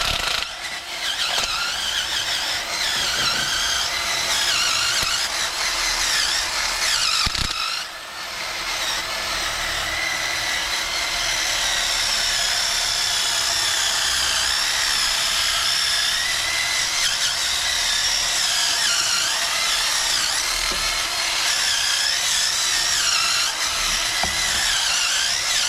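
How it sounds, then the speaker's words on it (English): A wire wheel spun on a drill scrubs rust off the front wheel hub of a 2001 Buick LeSabre during a brake job: a loud, sustained, raspy whir with wavering pitch, briefly dipping once, with no talk. "it's just a wire wheel on a drill basically."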